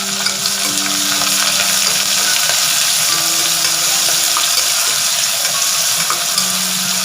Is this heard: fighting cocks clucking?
no